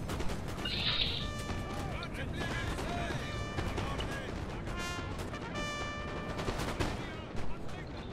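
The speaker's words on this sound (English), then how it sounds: "just a load of artillery just flattened a load of men" Artillery fire rolls across a Napoleonic battlefield at Waterloo in Napoleon Total War, with distant booms and crackling volleys blending into a steady din of battle, accompanied by whistling and tonal game sounds.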